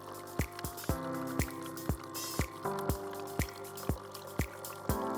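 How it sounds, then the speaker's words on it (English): NESCAFÉ Dolce Gusto Mini Me coffee machine rinsing, with hot water flowing through it and a steady run of sharp, evenly spaced dripping or gurgling ticks, roughly two per second, over a constant pump hum. "Mini-Me will start rinsing for another 30 seconds."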